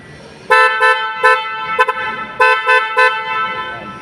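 A newly installed horn on a Toyota Hiace van honking up close: loud, bright tooting in short bursts, first a sustained blast, then several quick taps, another blast and more brief toots.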